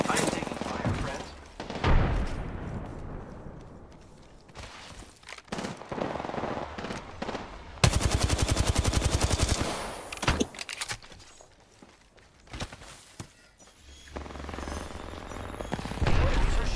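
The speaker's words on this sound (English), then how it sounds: "The enemies are shooting at me." Bursts of automatic gunfire and single shots from enemies in a battle royale video game, loud and close, coming in rapid volleys with pauses between them, while a player speaks over parts of it.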